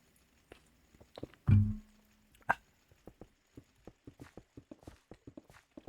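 Horse hooves clip-clop in the Minecraft modpack GregTech: New Horizons, a steady run of light, evenly spaced knocks near the listener with one louder thump early on.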